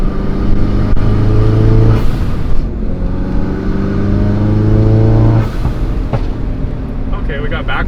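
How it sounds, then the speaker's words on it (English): A car at the TX2K street-car event revs hard through rising engine tones, with a few sharp exhaust pops and backfires breaking in between pulls, loud and close with no talking. "Okay, we got backfires too."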